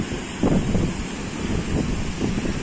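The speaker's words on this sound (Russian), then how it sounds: "ветер дует сильный" Strong southwesterly wind gusting at a stormy Black Sea seaside in Arkhipo-Osipovka, buffeting the microphone in low rumbling bursts, with surf and waves faintly underneath and no talking.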